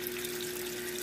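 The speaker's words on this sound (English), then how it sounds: "Filling up the water again and doing some kind of washing." A Haier XQBM22-C compact portable fully automatic washing machine fills with water, a steady rushing hiss topped by a constant pump hum, loud and close with no voices.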